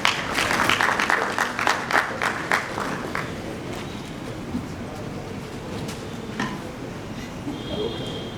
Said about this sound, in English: Another round of applause for Captain.